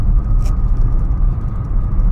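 Steady low engine drone and road rumble from a Renault 16 TX cruising smoothly with its five-speed gearbox, continuous and fairly loud, with a brief faint tick near the start and no voices.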